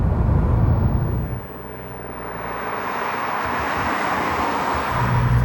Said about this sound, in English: Countryside driving the new Opel Astra Facelift